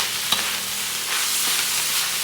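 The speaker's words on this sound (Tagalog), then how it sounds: "Then, haluin natin ulit ito." Spring onions are stirred into palabok sauce in a pan, giving a brief, close, steady sizzle and bubbling hiss with faint scraping from the stirring.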